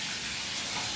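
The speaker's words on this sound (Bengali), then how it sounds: "মাছ ভাজা হাফ হয়েছে, হাফ হচ্ছে" Rohu fish fries in a pan during home lunch cooking, giving a steady, close, continuous sizzle and hiss that holds at an even level throughout, with no speech.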